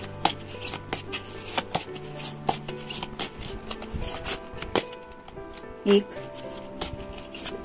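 Tarot and oracle cards being handled and laid out during a reading, soft slaps and shuffles at irregular intervals under close speech.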